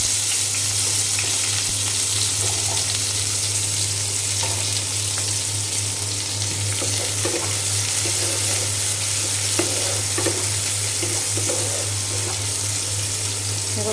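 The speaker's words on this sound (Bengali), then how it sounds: "তেল গরম হয়ে গেলে আস্ত জিরা দিয়ে দিয়েছি। এখন আমি দিয়ে দিলাম পেঁয়াজ কুচি।" Chopped onions fry in hot oil with whole cumin seeds, a steady close sizzle and crackle running unbroken throughout, with faint scrapes and a low background hum beneath.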